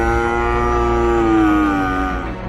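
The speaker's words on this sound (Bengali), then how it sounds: "বাঁধা গরুগুলো বাঘটাকে দেখে ভয়ে জোরে জোরে ডাকতে থাকে।" Tethered cows mooing loudly in fear at the sight of a tiger, one long, sustained, loud low moo, drawn out and slightly falling in pitch, heard alone without talk.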